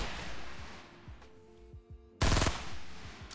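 Automatic gunfire in Fortnite: Battle Royale, rapid bursts of shots rattling under constant game ambience, then a sudden loud close burst near the end.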